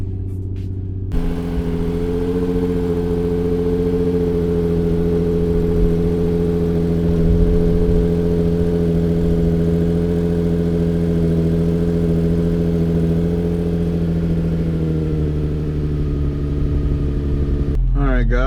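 Nissan 350Z Nismo engine cold-starting: a brief crank catches into a loud, steady high idle with a strong low hum that settles slightly over the following seconds, then a short burst at the end.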